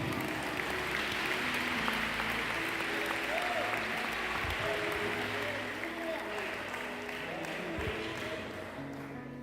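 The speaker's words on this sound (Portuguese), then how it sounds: "Você pode aplaudir o nome do Senhor." A church congregation claps during a Sunday family service, with sustained applause mixed with a sustained musical tone and some voices underneath, slowly easing in loudness toward the end.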